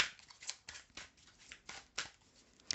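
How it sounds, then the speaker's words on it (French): Tarot cards are drawn from a deck one after another, crisp papery slides and flicks in several separate bursts, close and fairly quiet with soft pauses between. "Donc, je tire 3 cartes."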